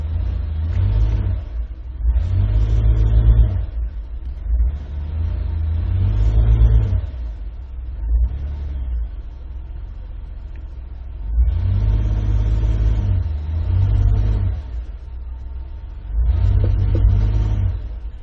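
A Ford engine idles with a misfire on the number 2 cylinder, its loud, close rumble pulsing unevenly in repeated surges with no talk over it.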